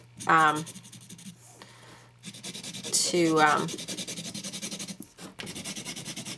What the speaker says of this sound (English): I'm going to use another one of the Pitt Artist Big Brush pens. And I'm going to just go ahead and go around the edges